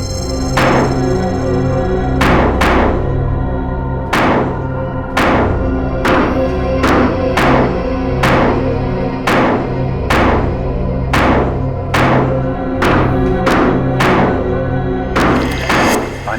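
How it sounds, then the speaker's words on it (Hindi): Repeated heavy digging strikes into a water tank, roughly a dozen sharp thuds at irregular intervals, loud and close over a steady low hum and background music. "खोदो इस पानी की टांकी को,"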